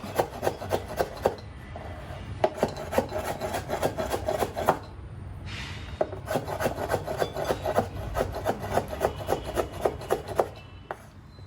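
Rapid, rhythmic knife chops on a board as jackfruit is cut finely, in bursts with a brief pause midway, close and moderately loud.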